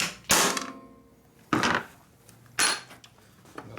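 Three sharp hammer blows strike the cylinder head of a rusty 1952 Harley-Davidson 74ci panhead under rebuild, each a loud metallic impact with a brief ringing decay, spaced about a second apart.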